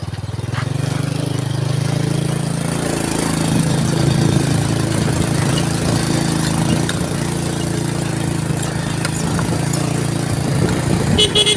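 A motorcycle engine labours steadily uphill toward a viewpoint near Punthuk Watu Bangkong in Purworejo, a loud, continuous low drone with slight rises in pitch and wind noise throughout, no talk.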